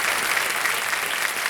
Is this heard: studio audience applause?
yes